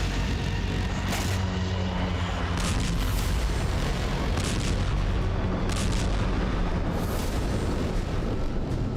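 Kalibr cruise missile strikes on Kyiv come as loud, continuous rumbling booms, with several sharper blasts rising out of a dense roar of explosions.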